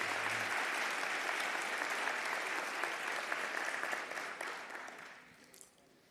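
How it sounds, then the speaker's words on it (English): Sustained applause from a summit audience fills the room, steady and dense at first, then thinning and fading out over the last couple of seconds. "Please give a round of applause for everyone else at your table"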